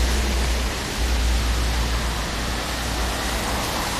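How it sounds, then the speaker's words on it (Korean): Steady rain falling outdoors on a street, a dense, even hiss with low rumble underneath, continuous and fairly loud with no voices. "비 다시 온다"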